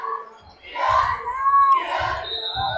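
The Anderson student section at a boys varsity basketball game against Lapel chants and yells in rhythmic bursts, loud crowd cheering rising and falling with shouts on top.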